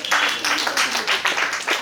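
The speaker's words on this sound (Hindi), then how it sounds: "दिया जी के लिए तालियां बजाइए एक बार" A brief round of audience applause in a lecture hall for Diya Goyal, steady clapping with no talk.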